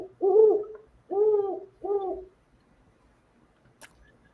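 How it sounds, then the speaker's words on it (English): A great horned owl call plays from an electronic bird book: three deep, hooting notes, the first two longer and the third shorter, clear and close in near silence, followed by a faint click. "do you want to hear a great horned owl?"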